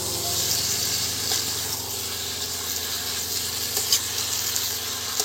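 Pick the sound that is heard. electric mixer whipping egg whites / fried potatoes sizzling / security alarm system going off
fried potatoes sizzling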